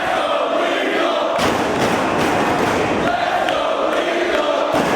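Wrestling arena crowd rallying behind Jay Lethal, a dense, steady roar of voices with rhythmic surges of cheering and chanting, loud and continuous for the whole stretch, with occasional dull thuds beneath.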